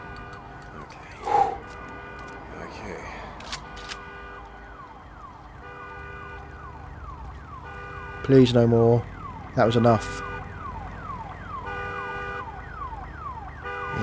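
In the video game Days Gone, a blaring alarm wails in a steady, repeating rise and fall across the whole stretch, while someone talks over it and louder bursts of his voice break through twice.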